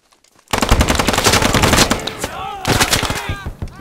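Loud, rapid automatic gunfire rattles out in dense bursts during a military shooter game. A short pause near the middle breaks it before another sustained burst, with voices briefly audible among the shots.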